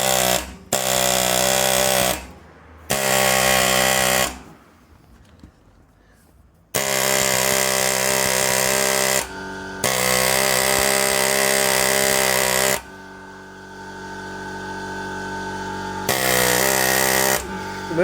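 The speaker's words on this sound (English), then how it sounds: "We've got the air chisel on the centre thing." An air chisel hammers at the centre of a BMW E90 drive shaft, loud rapid bursts of pneumatic chattering that stop and restart several times, with hissing air and a long steady run near the end.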